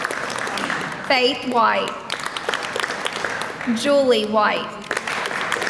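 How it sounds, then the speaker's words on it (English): An audience at a high school senior awards ceremony claps for graduating seniors, a continuous patter running under a speaker who reads names aloud. "you all have this clapping thing down"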